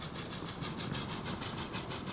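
A train running in the Transport Fever 2 video game, with steady rumbling rail noise and rhythmic clickety-clack pulses throughout, loud and continuous.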